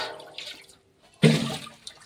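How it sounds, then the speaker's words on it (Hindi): Water pours into a golgappa pani mixture being made for pani puri in a kitchen, a short gush that starts abruptly after a faint earlier trickle, close and fairly loud. "ये थोड़ा सा पानी डाल देंगे ताकि जो बचा है ये भी हमारा गल जाएगा।"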